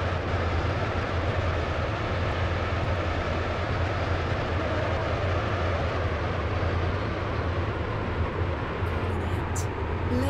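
Class 68 train in the Stepford County Railway video game running between Water Newton and Edgemead, heard from on board as a steady, loud, continuous rumble and roar with low drone throughout.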